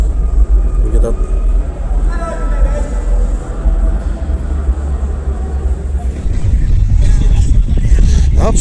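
A small modified Fiat runs at a car show, its engine a low rumbling drone under crowd chatter and background noise, growing heavier near the end.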